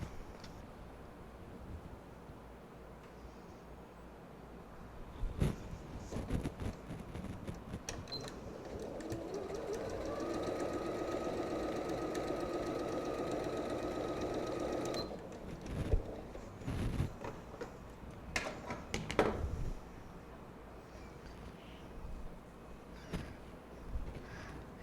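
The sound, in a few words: sewing machine stitching pieces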